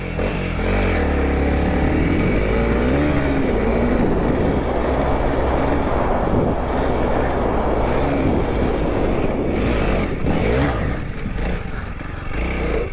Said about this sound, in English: we're gonna see if this CRF300L will make it up this sandy uphill with a, you know, a nice little ledge at the top